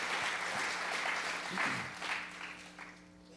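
Audience applause at a formal gathering, a steady wash of clapping that swells briefly midway, then thins and fades toward the end.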